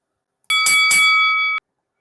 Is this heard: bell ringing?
yes